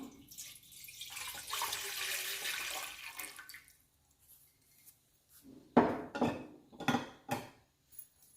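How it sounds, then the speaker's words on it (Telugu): Water is poured into a metal cooking pot for steaming tomatoes, making a gushing splash for about three seconds. A short quiet follows, then several sharp metallic clanks and knocks of the pot and utensils. "వాటర్ పోసుకుందాము."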